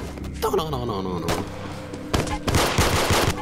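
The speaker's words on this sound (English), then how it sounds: "That's a baseball gun." A baseball gun in a Roblox obby fires in rapid bursts of thumping shots, punchy and close, mixed with chaotic game sounds and excited voices talking over it.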